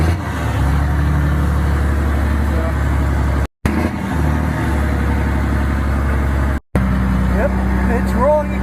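A grandfather's old truck runs and rolls along, its engine a steady loud low rumble throughout, interrupted by two brief dropouts, with faint voices over it.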